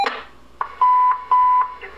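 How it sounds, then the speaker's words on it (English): Uniden BCT-15X scanner sounding its two-tone alert: a loud, steady electronic beep tone repeating in two sustained bursts with short gaps, after a brief burst of radio noise and dispatcher voice. "waiting for a previously programmed combination of two-tone frequencies to come in, at which time it'll set off an alarm"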